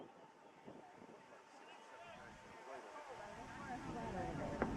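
Steady outdoor wind rumble and buffeting on the microphone at a college baseball game at Siddell Stadium, with a faint voice underneath and a low constant hum.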